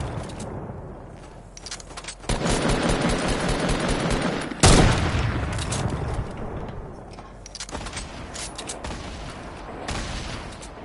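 Rapid automatic gunfire in a Fortnite Battle Royale match, a long loud burst starting midway with a sharp heavy shot standing out, then further shooting fading somewhat, no talk over it.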